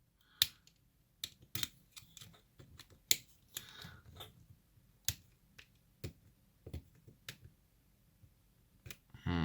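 Sharp, irregular clicks and snips from trimming material inside Skyzone SKY03O FPV goggles, quiet close cuts spaced unevenly with brief pauses between them.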